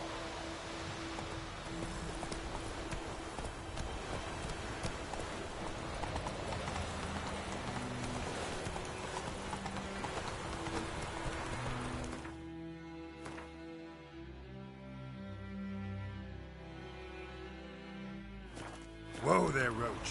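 Hooves of Geralt's horse Roach in The Witcher 3 clip-clop steadily at a walking pace, close and continuous, over a bed of game music, with the beat thinning out toward the end.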